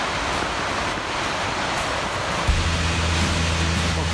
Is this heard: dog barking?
no